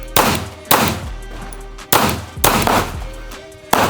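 A Ruger RXM full-size pistol fires six sharp, loud shots in an uneven rhythm, each a hard crack with a short ringing tail, close by and with no talking.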